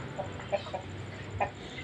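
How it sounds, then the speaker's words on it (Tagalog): Chickens in a coop, two roosters with several hens, give short scattered clucks over a steady low farmyard hum, a few calls standing out near and clear. "ipinasok na nila yung mga alagan lang manok na madam"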